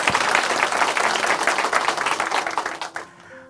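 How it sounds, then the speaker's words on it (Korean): A church congregation applauds loudly and continuously, dense close clapping that holds steady and then fades out near the end. "유민선 형제님께 다시 한번 박수 부탁드릴게요"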